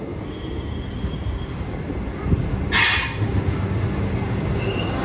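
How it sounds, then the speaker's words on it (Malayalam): Orange Vande Bharat train pulling into a station after a delay, a steady rumble of rolling wheels and carriages with a brief loud hissing burst midway, heard from the platform without talk. "അങ്ങനെ 15 മിനിറ്റ് ഡിലേ ആയിട്ടാണ് നമ്മളെ വന്ദേ ഭാരത് വരുന്നത്."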